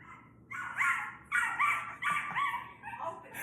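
Puppy barking in a replayed video, a run of about five or six high, excited yips and barks in quick succession, fairly close and clear.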